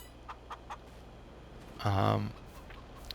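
A few soft, short chicken clucks in Farming Simulator, followed by a louder, sustained harmonic squawk or cackle lasting about half a second.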